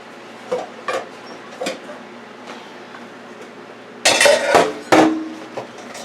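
Dishes, pots and cutlery clatter during kitchen cleanup after cooking rice in a rice cooker, with sparse knocks early and then a louder, close burst of clanking and clinking near the end.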